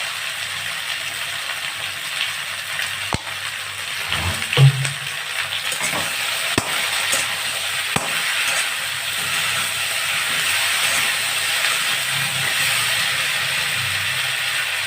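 Ground spice paste of cumin, ginger and dry chilli fries in hot oil in a pan for a Bengali cauliflower and hilsa curry, giving a steady close sizzle with a few sharp clicks and stirring knocks, and no talking.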